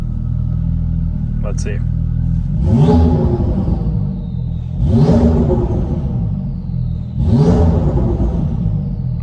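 A warm Lamborghini Urus in Sport Plus mode sits at a low, steady idle, broken by three loud, evenly spaced throttle blips. A brief spoken remark comes just before the first rev.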